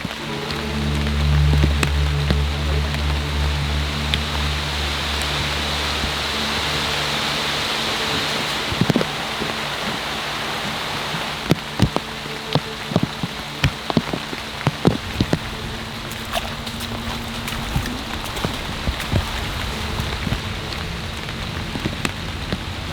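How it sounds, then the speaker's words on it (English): Steady rain pours onto dense Amazon rainforest canopy, a broad continuous hiss with scattered sharper drip impacts close by, plus a low rumbling hum in the first few seconds. "Rain's been coming down for a few minutes now in typical Amazon rainforest fashion."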